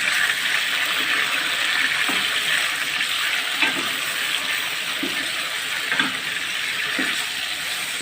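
Chicken sizzles in a pan over high heat, a dense, steady hiss and crackle with scattered louder pops, close by and with no talking.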